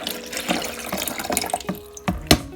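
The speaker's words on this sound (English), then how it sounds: "pour my water into the back part" Water poured into the rear reservoir of a coffee maker in a home kitchen, a near, splashy trickle with gurgles and drips that steadies then tapers, with a few louder splashes near the end.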